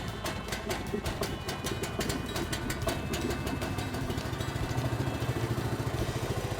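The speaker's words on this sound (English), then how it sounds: "we're gonna actually let the engine run for a little bit" Small engine of an AGT Chinese mini skid steer running on choke, a steady close, rough idle with a fast, even clattering beat and no voices.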